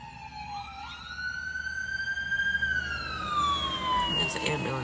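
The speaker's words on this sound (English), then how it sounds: "It's an ambulance." An ambulance siren wails nearby, its rising and falling tone sweeping steadily and growing louder toward the end, with a voice speaking faintly beneath it.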